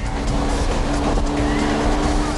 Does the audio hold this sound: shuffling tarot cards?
no